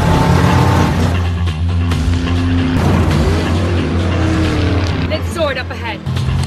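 Prison race cars in an armored death-race film roar off at the start of the race, their engines loud and close with tire squeals and a boom amid the din, while a voice talks over them.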